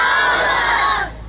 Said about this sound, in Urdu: ایک بار نعرے لگا لیجئے